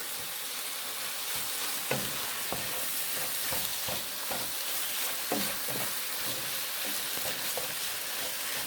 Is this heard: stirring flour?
yes